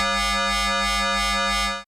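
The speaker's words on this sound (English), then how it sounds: "These rich, complex sounds are generated by shaping one waveform using another." A tone synthesized in Python with amplitude and frequency modulation, rich in even harmonics with a slow, pulsing wobble. It sounds steady and loud, then cuts off abruptly at the end.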